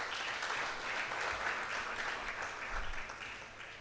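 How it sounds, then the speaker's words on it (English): Steady applause from a crowd, dense clapping holding at an even level for a few seconds before tapering slightly at the end. "can we kindly give him a hand of applause?"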